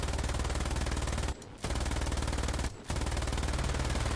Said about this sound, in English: my machine guns suck